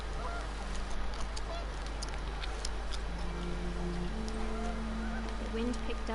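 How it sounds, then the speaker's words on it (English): Panicked geese honk repeatedly in a windy outdoor scene from the video game What Remains of Edith Finch, their calls sitting under a dense, steady bed of wind and background noise. "The wind picked up, and panicked geese appeared and quickly went."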